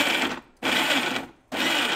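A kitchen mixer grinder runs in three short bursts with brief pauses between them, a loud whirring whine as it grinds coconut, cumin, green chillies, tomato and garlic into a paste.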